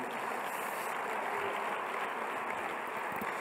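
Faint, distant applause from a church congregation at a Mundo de Fe Nicaragua gathering, a steady wash of clapping that holds evenly for a few seconds with no voices over it.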